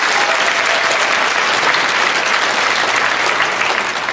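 Sustained applause from a large audience at a live concert of film songs, steady and dense clapping filling the room throughout without a break.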